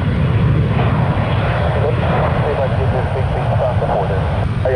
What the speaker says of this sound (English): it's a big airplane